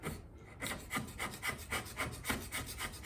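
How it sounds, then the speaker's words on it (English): A carver trims and squares the edge of a life-size stone bas relief angel, producing steady, evenly paced scraping and rasping strokes, close and moderately loud, with no voices. "Now I'm going to go around and I'm going to trim this off just to square this edge up a little bit."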